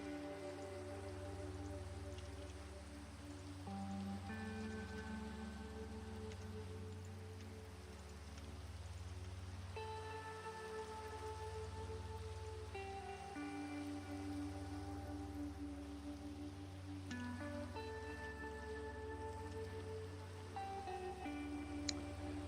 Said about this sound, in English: Rain falls, portal noise intensifies.